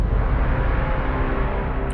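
A voice imitates a braam, the deep, blaring brass-like blast heard in cinematic trailers, as one loud, dense, sustained low roar held steadily for about two seconds.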